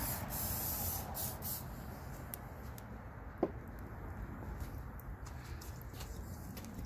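Cooking spray hisses onto a preheated 12-inch cast iron skillet in several short bursts, a close airy spray sound with a faint click partway through.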